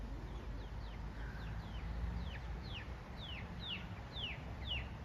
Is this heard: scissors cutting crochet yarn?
no